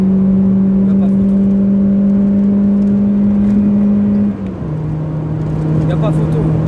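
A car cruises on the road over newly fitted heavy springs and shocks, its engine a steady droning hum inside the cabin that drops in pitch midway as the revs change, loud and close with no talk.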